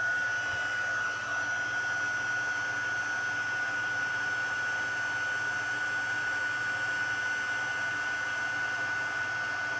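A handheld heat tool runs at full power to melt embossing powder on a stamped card, giving a steady close blowing hiss with a thin high whine that holds evenly throughout.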